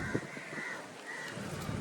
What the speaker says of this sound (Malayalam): മാവിൻ്റെ മേളിൽ ജീവിക്കുന്ന കുറേ സാധനങ്ങളുണ്ട് കാക്ക കാക്ക